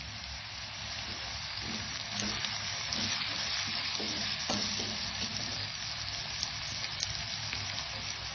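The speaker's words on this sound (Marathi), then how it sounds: "मसाले आपण छान भाजून घ्यायचे." Garam masala, black masala and chili powder roasting in a pan for a spicy moong vadi curry, with a soft, continuous sizzle and occasional faint stirring scrapes.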